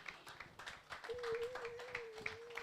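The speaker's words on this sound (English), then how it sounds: "A round of applause for them." Audience at a medical college ceremony clapping for medical students, scattered, uneven claps with a distinct tonal hum and some background voices mixed in.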